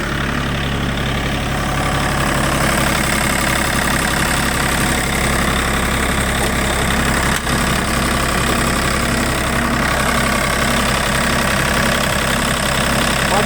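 A small three-cylinder 25-horsepower diesel engine on a Hinomoto tractor idles steadily and loudly nearby, with a rough, knocking low rumble that holds constant throughout.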